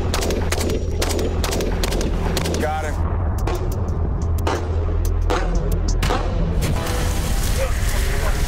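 Several sharp gunshots ring out outdoors from an ATV-mounted gun, loud cracks spaced irregularly over steady engine-like rumble, with people talking between shots.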